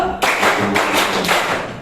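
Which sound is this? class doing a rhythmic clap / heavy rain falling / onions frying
class doing a rhythmic clap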